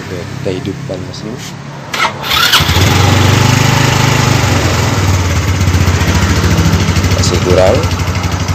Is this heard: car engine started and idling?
yes